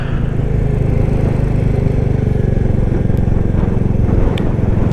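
A Royal Enfield Classic 350 motorcycle being ridden on a cold day gives a loud, steady single-cylinder engine thrum with rushing wind noise that runs evenly the whole time, with no talking.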